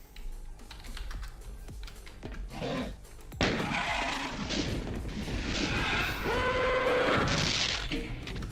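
Weapon fire in the video game Doom II: a heavy blast lands midway through, after a stretch of soft clicking, and rumbling, crashing game sounds follow.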